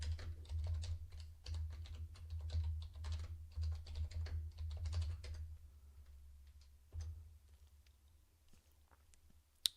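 Fingers type a default password on a computer keyboard in quick, soft, clustered keystrokes over a low hum, slowing into a few scattered taps and ending with one sharper click.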